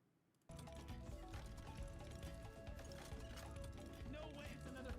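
Horses clip-clop in the open-world game Where Winds Meet, a steady busy trotting rhythm starting after a brief quiet moment, mixed into dense game music and ambience, with speech likely in the mix.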